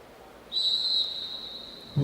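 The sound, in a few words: starter's whistle at track cycling race start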